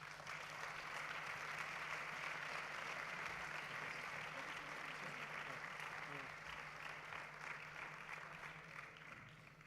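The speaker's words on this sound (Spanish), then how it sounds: "Un aplauso," An audience claps steadily after a lecture for several seconds, a dense patter of applause that tapers slightly toward the end.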